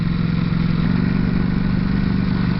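A Ducati Panigale V4S motorcycle on its stock exhaust idles close by, a steady, loud, throbbing engine rumble with a light mechanical clatter and no break.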